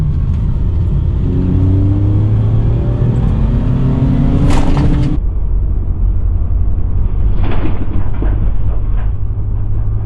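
A 2002 Mercury Cougar pulls away after a wash, its engine rumbling loud and close with rising rev tones, then shifting and settling into a steady drive.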